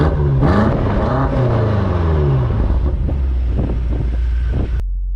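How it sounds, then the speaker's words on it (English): BMW M5 Competition sedan with a quad-tip exhaust starting up and revving, loud rising and falling engine roar with blips before cutting to a quieter idle. "let's do a startup and rev of this vehicle."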